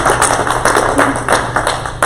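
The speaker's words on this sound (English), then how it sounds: "give Hensley a great big round of applause" A crowd at a college soccer signing event gives a round of applause for Hensley, heard as loud, dense, continuous clapping close by.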